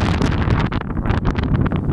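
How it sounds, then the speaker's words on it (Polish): Strong gusty wind buffets the microphone outdoors on a snowy winter farmyard, a loud continuous roar with rushing, rumbling surges throughout and no voices. "bo jest duży wiatr"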